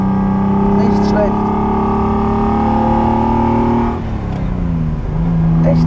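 A 1974 Ferrari 246 GTS Dino with its mid-mounted V6 pulls hard with a steady, tonal engine drone, easing off briefly before picking up again, loud and close under a faint voice.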